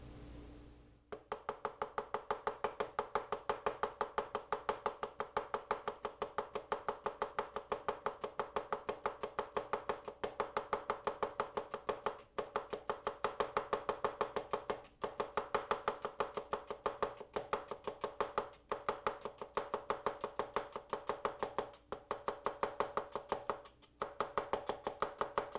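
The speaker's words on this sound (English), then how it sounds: "Beautiful, fine slivered onions, guys." A knife slices an onion into fine slivers on a cutting board, a rapid and very regular series of close taps that continues for about twenty-five seconds with a few brief pauses.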